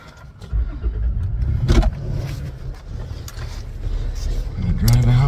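A vehicle engine runs steadily as it pulls off across a Kansas field to look for a shot doe, with a revving rise and a thump, close and fairly loud, mixed with low rumble.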